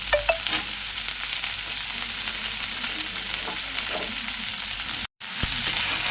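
Potato pieces fry in oil for a katla fish tel chorchori, a close, steady sizzle with occasional spoon stirs and a brief dropout near the end.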